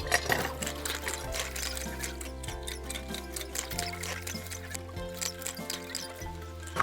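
Water pumped by hand pours into a bucket in a steady trickling stream with splashy, uneven bursts. Low tonal music plays underneath throughout.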